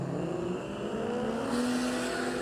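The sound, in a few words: Ford Falcon drag racing against Commodore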